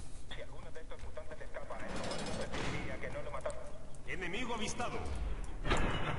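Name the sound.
gunfire from the video game FEAR 3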